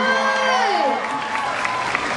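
Audience applauding at an outdoor mask singing show, a dense patter of clapping mixed with cheering, beginning under a host's voice and fading slightly as the speech drops away.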